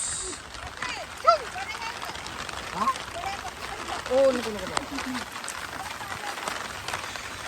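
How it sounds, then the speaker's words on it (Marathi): Rain pours down outdoors on the first day of rice-paddy transplanting, a steady broadband hiss running throughout while voices talk over it. "पाऊस पाऊस पाऊस"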